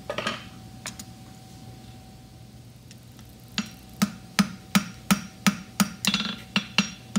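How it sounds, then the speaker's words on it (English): A blacksmith's hammer rings on hot steel, drawing out the heel of a horseshoe on the anvil: a few scattered strikes, then a steady run of sharp, close, evenly spaced blows over a faint background hum. "Using the edge of my hammer"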